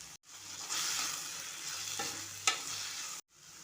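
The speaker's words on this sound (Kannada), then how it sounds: "ಇದನ್ನೆಲ್ಲ ನೀಟಾಗಿ ಒಂದು ಸಲ ಮಿಕ್ಸ್ ಮಾಡ್ತಾ ಇದ್ದೀನಿ." Greens frying in oil in a pan while being stirred, a bright continuous sizzle with scraping strokes and a sharp clink partway through, cut by brief silences at start and end.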